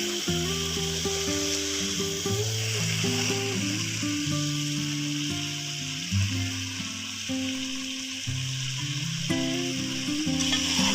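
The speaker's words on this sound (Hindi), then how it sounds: "अब हम इसको अच्छी तरह से भूनेंगे ताकि इसका घी निकल जाए।" Homemade khoya (milk solids) roasting in ghee in a pan while making gajar ka halwa: a steady, soft sizzle runs throughout beneath louder background music, with no speech.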